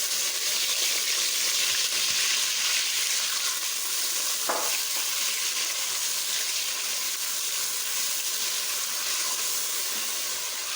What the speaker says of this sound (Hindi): तो थोड़ा सा हम इसको सौते करेंगे, यानी कि थोड़ा सा भूनेंगे प्याज को